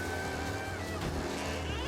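A car engine drones steadily while driving in Mafia: Definitive Edition, a strained, continuous hum with rising tonal harmonics that holds without a break for the short stretch.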